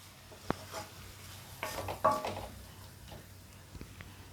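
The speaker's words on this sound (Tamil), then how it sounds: "கிளறி விட்டுப்போம்" Vegetables being stirred in a pan for Indian-style macaroni after a little water was added: scattered scraping clicks and taps of a spoon against the pan over a soft sizzle, close and quiet, with no talking.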